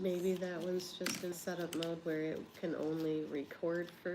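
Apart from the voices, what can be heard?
No everyday noises stand out.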